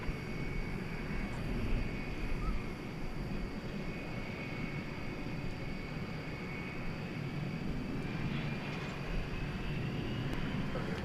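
Jet airliner landing on runway 18 left at DFW Airport at night, a steady distant roar with a faint tonal whine held throughout.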